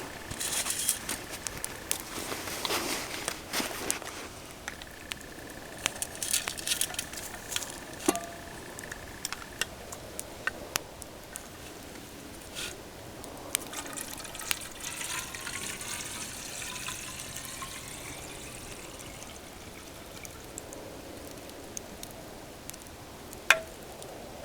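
Water is poured from a Nalgene container into an aluminum Kelly Kettle Basecamp, a quiet irregular splashing and trickling punctuated by clinks and knocks of the containers, with no talk.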